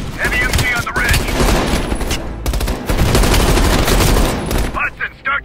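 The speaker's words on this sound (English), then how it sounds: "Heavy MG on the ridge!" Heavy machine gun fire from a ridge in Call of Duty Black Ops Cold War, a loud, sustained rattling barrage that runs almost nonstop with brief gaps, close and dense, with shouted voices near the end.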